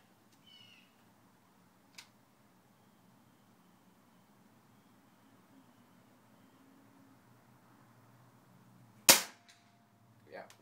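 Pellet gun fired freestanding without a bench rest at a target 65 yards away: a faint pop early on, then one loud sharp crack near the end followed by a small echoing tick, in a quiet outdoor setting.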